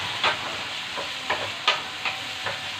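Onions frying in a hot pan for a sardine dish, with a constant close sizzle and periodic scraping stirs about every half second, no one speaking.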